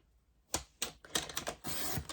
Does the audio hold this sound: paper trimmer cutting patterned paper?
yes